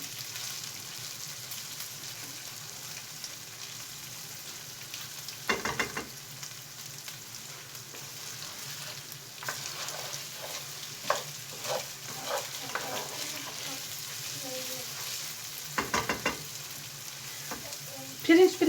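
Rice for pilaf sautéed in a pan with salt added, a quiet background sizzle broken by occasional scraping stirs and soft clinks, fairly faint and without speech.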